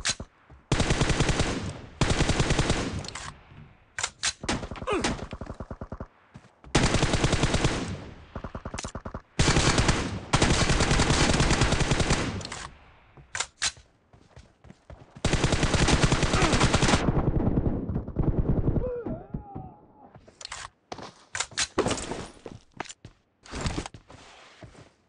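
Automatic M416 rifle fire in the mobile battle-royale game PUBG Mobile, played on an iPad, sounding as loud rapid bursts broken by short pauses, with quieter footsteps and handling noises between volleys.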